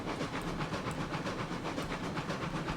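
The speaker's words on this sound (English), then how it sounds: "This train definitely has a ton of speed," A locomotive in the RailRoads Online video game runs at speed, giving a loud, steady rumble and hiss with a rapid, rhythmic chuffing pulse throughout and no talk.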